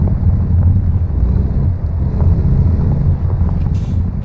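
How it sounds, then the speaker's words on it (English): A steady, heavy low rumble of a 2014 Volvo VNL truck rolling over dirt in American Truck Simulator, continuous and fairly loud with no voices. "What you're hearing is me running on dirt right now."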